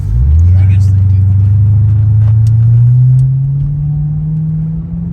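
A Cadillac CTS-V accelerating in second gear, its engine a loud, close, low rumbling drone whose pitch climbs steadily over several seconds, heard from inside the car.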